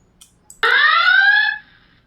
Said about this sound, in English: my alarm was just triggered